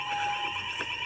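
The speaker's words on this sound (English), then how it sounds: "You pulled the fire alarm." A school fire alarm rings continuously at steady loudness, a harsh electronic tone filling the whole short stretch with no pauses.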